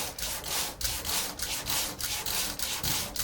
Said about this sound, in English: I do it by hand and I sand when the body fill is kind of wet